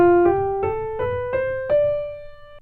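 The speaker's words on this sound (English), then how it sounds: "The Dorian mode sounds like this." On piano, a Dorian mode scale climbs from D on the white keys, one clear note after another at a steady pace, the last tone left to sustain and fade, with no voices.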